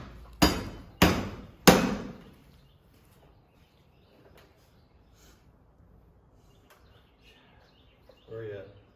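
Three loud, ringing hammer blows strike a metal bracket on a warehouse door in quick succession, followed by quiet with faint taps and small clinks, then a brief voice near the end.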